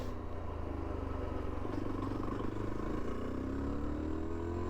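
A Yezdi Adventure motorcycle cruising on a highway, its engine droning steadily at a constant, fairly loud level with rising tonal whine as it pulls, plus continuous wind and road rumble throughout.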